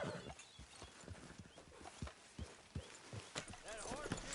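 Horse hooves clip-clop in a steady rhythm through a camp in the Western video game Red Dead Redemption 2, moderately close, with a person talking over much of it.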